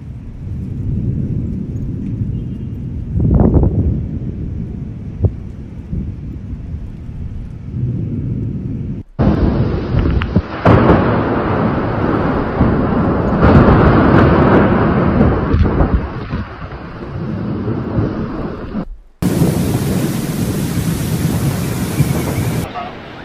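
Thunderstorm at Mecca's Kaaba, with gusting wind and sheets of rain roaring steadily across three abrupt sections, the later ones brighter and harsher, with possible faint voices underneath.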